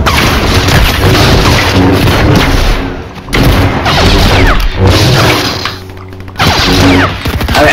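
Rapid, dense bursts of video game gunfire and explosive booms during a Fortnite fight, loud and near, with brief lulls between volleys and no talking.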